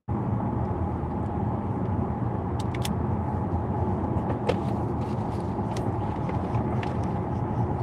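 A Zeekr 7GT RWD electric car with 421 horsepower drives at speed, giving a loud, steady road and wind roar from inside the cabin. A few faint clicks sound briefly, and no one speaks.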